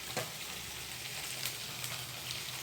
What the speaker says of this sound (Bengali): আজকে সাদাই ভাজবো, বেশি মশলা টশলা দেবো না, সিম্পল ভাজবো